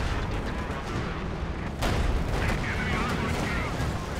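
Calliope rocket artillery firing in the video game Company of Heroes, a continuous loud roaring barrage of launches and booms with a sharp burst near the middle, sustained throughout.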